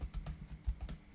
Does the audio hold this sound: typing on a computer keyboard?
yes